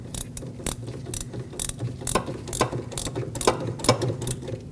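Quick, sharp ratchet clicks in an irregular run from a hand tool tightening the inner tie rod on a Lexus IS250 steering rack, close and fairly quiet.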